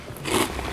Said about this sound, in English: as you chew them